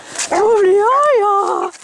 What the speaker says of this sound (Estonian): Tuli koer! Oi, kui tuli koer!